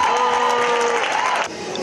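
Crowd cheering and applauding as women welders, sandblasters, body-shop workers and electricians are honoured at a ceremony, a loud, dense roar of voices and clapping that drops off abruptly near the end.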